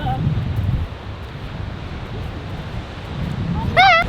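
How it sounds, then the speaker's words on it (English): Strong, cold wind on a beach blows steadily across the microphone with broad rumbling noise, surf-like wash underneath and a brief whistling bird-like tone near the end. "It's so windy and cold here."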